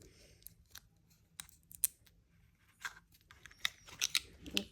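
Adhesive tape pulled and applied by hand while making a paper trash-throwing cup, a series of quiet, sharp crackles, rips and snips scattered unevenly against a faint background hum.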